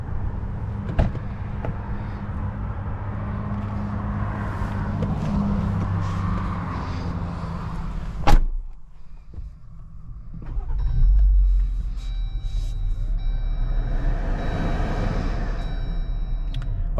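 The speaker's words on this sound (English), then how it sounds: "let's go ahead and take it on a POV test drive and see how it does." A 2022 Jeep Wrangler Sport S with side steps and a soft top rumbles steadily while driving, with a sharp thud partway through, then a quieter stretch and a steady engine and road drone.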